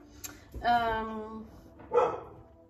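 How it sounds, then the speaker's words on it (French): Pet dogs let out a few short, muffled barks and yips indoors, heard from a moderate distance with a brief pause between two bursts. "je m'excuse pour mes chiens"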